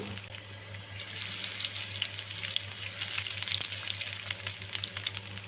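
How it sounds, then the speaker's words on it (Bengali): Onions fry in mustard oil until brown, giving a soft continuous crackling sizzle with scattered pops, faint and close, with no talking. "আমি ভালো করে পেঁয়াজটাকে ভেজে ব্রাউন কালার করে নিচ্ছি"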